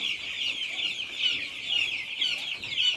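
Dense, continuous high-pitched peeping and clucking from a group of 11-day-old chicks, close up and without pause.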